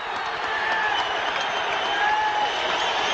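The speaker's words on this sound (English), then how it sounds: "Tommy Hearns tapped his mitts a little, gave him applause." Arena crowd applauding and cheering at the 1981 Sugar Ray Leonard vs Tommy Hearns welterweight title fight, a dense, steady roar of clapping that fills the whole stretch.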